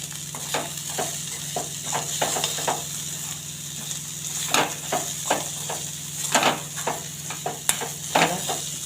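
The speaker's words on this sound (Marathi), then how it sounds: "दोन चमचे शेंगदाण्याचं कूट टाकते आणि ह्याला मिक्स करून घ्यायचं आहे" A spoon stirs roasted, ground peanut powder into a cooking dish in a pan, giving repeated soft scraping strokes over a faint steady sizzle, close up with no talking.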